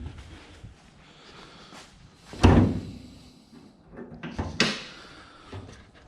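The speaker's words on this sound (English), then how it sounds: "pop the hood." Hood of a Lexus IS with a twin-turbo 1JZ swap released in a garage: a sharp metallic pop near the middle, followed by a couple of softer clunks and thumps, close by with no talking.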